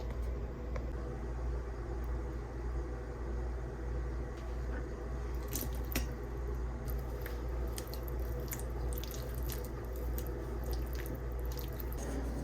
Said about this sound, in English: Now I'm going to mix some of this pineapple sauce